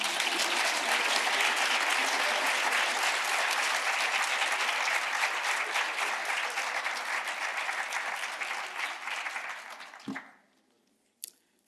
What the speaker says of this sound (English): Come on, don't be shy, you can clap those hands